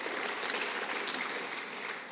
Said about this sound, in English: So big round of applause to the third-party event organizers.